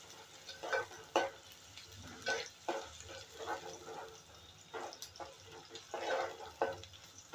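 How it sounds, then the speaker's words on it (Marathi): Chopped onion frying in a pan with curry leaves and chilli for a village-style dry fish dish, soft faint sizzling with repeated stirring clinks and scrapes in an irregular rhythm. "आता कांदा आपल्याला थोडा फ्राय करून घ्यायचा आहे।"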